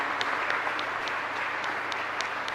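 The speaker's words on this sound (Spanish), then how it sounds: "Un fuerte aplauso." A church congregation claps during a live Mass at a parish, a steady broadband patter of many hands with a few sharper claps standing out, moderately loud and continuous with no voices over it.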